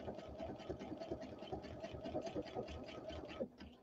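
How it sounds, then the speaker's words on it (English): Baby Lock Presto II sewing machine running steadily as it stitches and ties off a buttonhole, a fast even mechanical whir with rapid needle pulses, then it slows and stops near the end. "and it's going to stop, and then I can hit the cutter up here, and it will cut off the thread, and here is my buttonhole."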